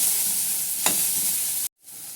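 Vegetables sauté in butter and oil in a pan for a winter vegetable soup, giving a steady bright sizzle. A stir or scrape is heard partway through, and the sizzle cuts out briefly near the end.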